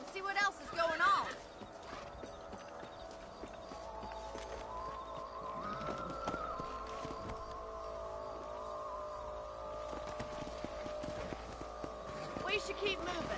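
Horse hooves clip-clopping in a Western ranch video game, a soft continuous run of hoofbeats under tonal game music and droning background, with a voice speaking briefly at the start.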